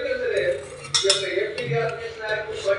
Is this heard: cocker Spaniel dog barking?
no